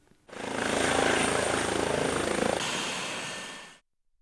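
A helicopter's rotor thumps loudly and steadily for a few seconds as it lands on a hospital helipad, a dense whirring roar close by that cuts off abruptly.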